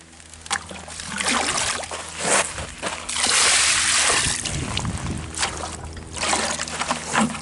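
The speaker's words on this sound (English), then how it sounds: "We got some splashy water in a bucket with a cushy handle." Creek water sloshes and splashes in a bucket in irregular bursts, close by, with trickling and dribbling between the louder surges, at a creek.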